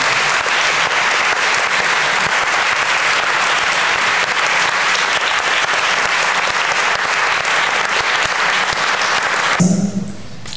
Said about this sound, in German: Und euer Applaus.